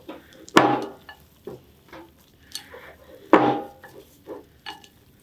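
Raisins being mixed into a sticky no-bake SunButter and honey energy-bite mixture in a bowl. Scattered knocks and clatters sound at close range, with two sharper thuds among softer scraping.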